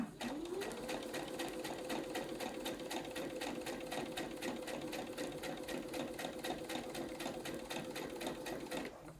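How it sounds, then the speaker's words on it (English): A sewing machine stitches a pillow insert in a steady, continuous run of rapid needle strokes, held close and loud at an even pace from start to finish. "So I'm starting 2 inches from the end on one side and I'm going to stitch."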